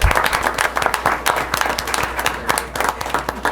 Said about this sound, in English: Can we please clap on that?